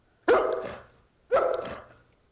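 Dog at the Westminster dog show barking twice, about one second apart, each bark sharp and fairly close, decaying quickly into quiet, with no talk over it.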